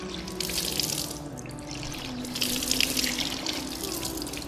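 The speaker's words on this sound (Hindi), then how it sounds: "अब हाथ से लेकर पानी इस तरीके से हमें चढ़ाना है।" Water runs and splashes steadily over the arms during Islamic ablution (wudu), a close trickling wash with no talk.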